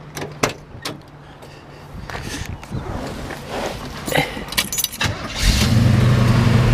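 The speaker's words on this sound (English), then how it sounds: "Go ahead and fire this one up for you." A 1970 Chevrolet Camaro RS with a 350 V8 and a freshly rebuilt carburetor: clicks and knocks, a cranking starter, then the engine catches and settles into a loud, steady idle.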